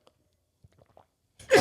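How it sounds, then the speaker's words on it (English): A single sudden sneeze bursts out loud and close at the end, preceded by a few faint breaths and small mouth sounds in a quiet podcast room. "I'm going to sneeze, dude, out of nowhere."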